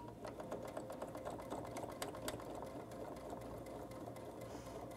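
A sewing machine stitches around a stocking gift card holder design in a rapid, continuous mechanical chatter, steady and fairly soft, with no talking throughout.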